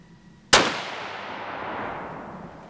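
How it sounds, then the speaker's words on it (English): One sharp, loud crack from a Savage Axis .308 rifle fired at a range during scope sighting-in, trailing off into a drawn-out echo lasting a couple of seconds. "Shot number eight."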